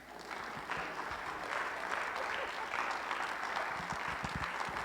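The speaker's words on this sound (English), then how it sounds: "Let's give a round of applause." A church congregation at a recovery service gives steady, moderate applause that holds evenly, with a few low knocks and thumps scattered beneath the clapping.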